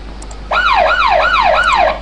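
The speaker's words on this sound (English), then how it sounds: "emergency siren police yelp" A police siren yelp sound effect from a Flash CS5.5 sound library: four rapid rising-and-falling electronic wails in a steady rhythm, loud and close, with nothing else underneath.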